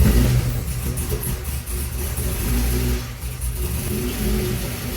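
An LS-swapped 1987 El Camino engine settles toward idle after a hard start, with a steady mid-pitched rumble and mild surges in revs, close and continuous, with no one talking.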